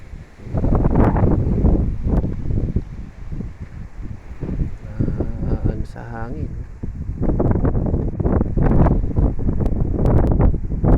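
Strong wind buffets the microphone in heavy, roaring gusts, with a voice talking intermittently underneath.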